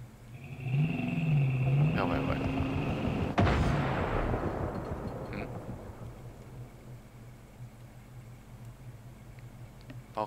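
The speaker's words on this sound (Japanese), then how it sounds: "爆発音。" A sharp, heavy blast bursts out partway through over a droning engine-like hum in the video game Far Cry 5, then rumbles and fades slowly.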